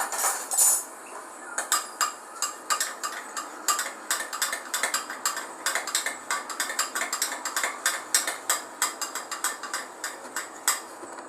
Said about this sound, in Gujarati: ગરમ પાણી આ બંનેને હવે મિક્સ કરી દઈશું.